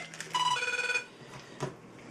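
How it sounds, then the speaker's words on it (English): A cell phone rings with a short electronic tone pattern, faint and brief, followed by quiet room noise and a soft click. "Sorry, cell phone."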